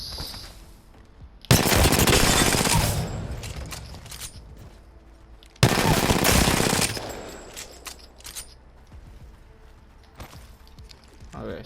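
Two bursts of rapid automatic fire from an RE-45 pistol shot from the hip in a video game, each burst roughly a second long and loud, separated by a few seconds of quieter game ambience.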